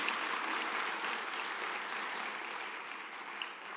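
Applause from a church women's conference congregation honouring the Lord, a broad, even wash of clapping at moderate level that continues steadily without talk.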